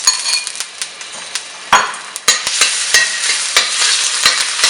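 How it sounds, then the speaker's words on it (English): Garlic paste and ginger paste frying in hot oil for a shrimp and green bean stir fry, a steady bright sizzle with spatula scrapes and clinks against the pan, close and loud, no talking. "now that the oil is heated up, I'm going to be putting it like a 1 teaspoon of garlic paste and about a teaspoon of ginger paste"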